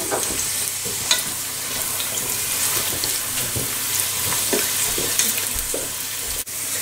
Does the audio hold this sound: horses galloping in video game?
no